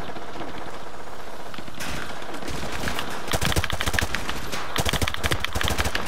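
Gunfire fills a Call of Duty: Modern Warfare 2 Remastered battle, starting with scattered distant shots and building into loud, rapid automatic bursts in dense volleys.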